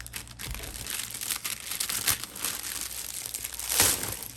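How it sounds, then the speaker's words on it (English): Cellophane wrapping is peeled off a budget notebook, producing close, quiet crinkling and crackling in irregular bursts with a sharper tearing rustle near the end. "So it's got the cellophane around it."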